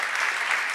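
Audience applause at a climate-focused business lunch in Geneva, a dense, steady wash of clapping from many hands filling the room, loud and continuous without pause.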